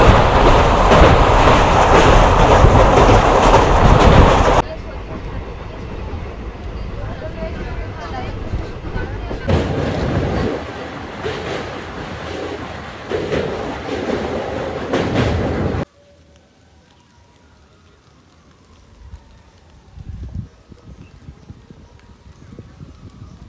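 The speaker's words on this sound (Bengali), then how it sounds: "আমার ট্রেন দিয়েছে সাঁতরাগাছি জংশন রেলওয়ে স্টেশনের 2 নম্বর প্ল্যাটফর্মে।" A train at Santragachi Junction, platform 2, rumbles loudly into the station with rolling wheel noise and clatter, then grows quieter and drops to a faint background hum near the end.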